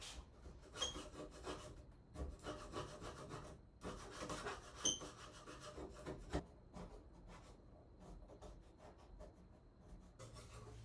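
A scraper rasps repeatedly across paint on a wooden cabinet in uneven strokes, close by, with short pauses between bursts of scratchy friction.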